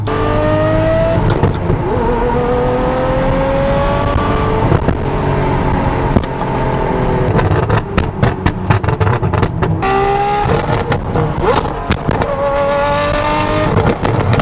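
A Ferrari 599 V12 roars and revs hard while being driven aggressively, with loud rising and falling engine sweeps through gear changes, close and continuous with no talking.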